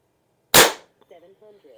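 A single sharp shot from an Aselkon MX7s subcompact bullpup .25 caliber air rifle cracks loud and close, followed by a short faint rattle.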